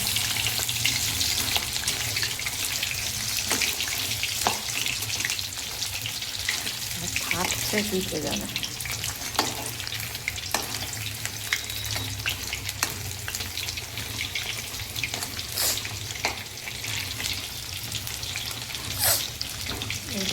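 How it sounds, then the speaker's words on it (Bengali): Chicken pakoras for chilli chicken deep-fry in hot oil with a steady, loud, close sizzle that crackles for the whole stretch, with a faint voice speaking briefly. "একটা ভাজা হয়ে গেলে এইভাবে সবগুলো পকোড়াই ভেজে নেব"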